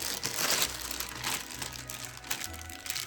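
Ziploc plastic bag filled with spackle, crinkling and rustling close up as it is handled, in irregular bursts with a brief louder crackle at the start and a faint low hum underneath.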